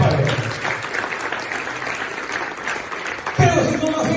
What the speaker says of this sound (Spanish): Denle palmas a Él